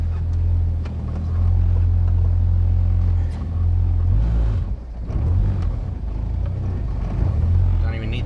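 A K-swapped Honda CR-V with a custom exhaust drives along, its deep engine rumble droning steadily with brief dips and swells, while people talk inside the car.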